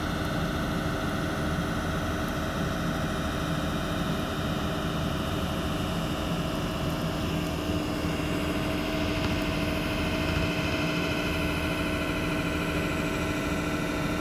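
A TY23VSM mobile lathe spinning at 800 RPM while taking a 0.1 mm cut at 40% feed rate gives a steady, even mechanical hum and whine that holds unchanged throughout, with no speech.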